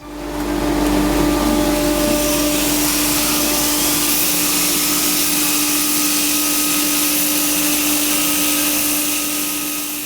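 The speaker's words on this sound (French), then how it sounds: "je vais pouvoir maintenant travailler avec une autre machine qu'on appelle le backstand" A backstand belt grinder shapes a knife handle freehand, giving a loud, steady motor whine with abrasive hiss that holds unbroken from start to finish. No voices.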